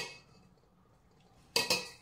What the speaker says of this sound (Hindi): अभी मैशर, पोटैटो मैशर से ऐसे मैश कर देंगे।